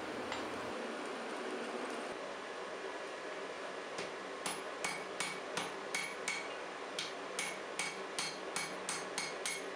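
Hammer blows on stacked layers of steel being forge welded into a Damascus billet, a steady series of sharp metallic strikes in the second half over a continuous roar of forge noise, no voices.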